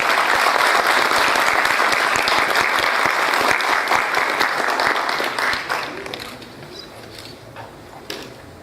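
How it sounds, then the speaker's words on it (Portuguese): An audience at an official Brazilian heraldry and humanities award ceremony applauds, a loud, dense clapping that carries on for several seconds before thinning and fading out. "Nossos aplausos."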